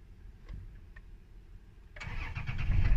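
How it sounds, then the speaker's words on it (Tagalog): A car with a security light fault cranks and its engine catches at about two seconds, then idles louder. Faint clicks come before the start and no one speaks. "try natin start yung sasakyan."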